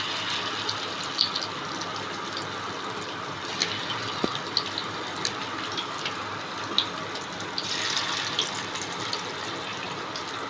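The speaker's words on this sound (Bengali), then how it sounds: "এবার আমি মাছটা ছাড়ছি।" Flour-coated fish for chilli fish fries in moderately hot oil, a steady close bubbling sizzle with a few soft pops and clicks throughout, swelling slightly toward the end.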